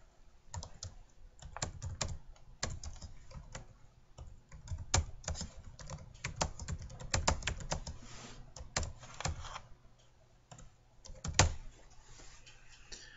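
Computer keyboard typing, close and fairly quiet, in irregular bursts of rapid key clicks with short pauses, no talking.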